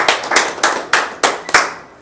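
A seminar audience in Sunder Nagar, Himachal Pradesh, claps in six sharp, evenly spaced bursts, close and loud, fading out at the end with no talking.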